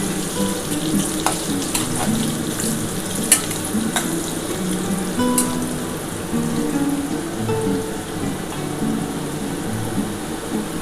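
Potato pieces sizzle steadily in hot oil in a home kitchen pan, a continuous close crackle with occasional sharp pops and scraping stirs, no talking.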